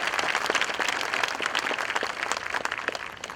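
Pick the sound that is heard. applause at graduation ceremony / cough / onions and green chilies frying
applause at graduation ceremony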